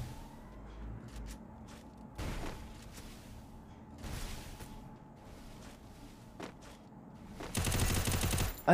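Free Fire video game gunfire, sparse sharp shots scattered across a quiet stretch, ending in a dense loud automatic burst, no voices.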